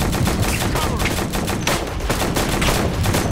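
Rapid machine gun fire in the military shooter game Operation Flashpoint: Red River, dense repeated bursts of shots in quick succession, loud and close, filling the whole stretch without talk.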